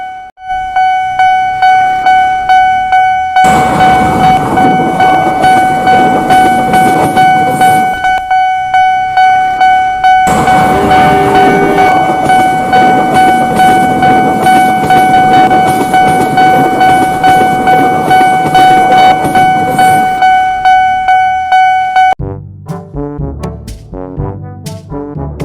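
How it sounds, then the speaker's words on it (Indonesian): A train rumbles loudly and steadily past a level crossing for about twenty seconds while a horn sounds a long held tone, then the noise cuts off into clattering. "jadi kalian harus nunggu kereta lewat"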